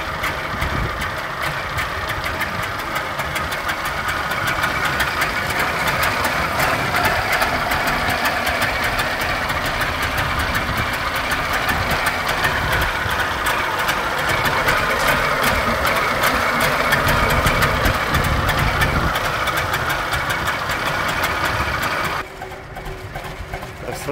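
A Trabant 600 Kombi's small two-stroke engine runs steadily close by, a buzzing, rattling drone that holds for over twenty seconds before dropping slightly near the end, with wind noise mixed in.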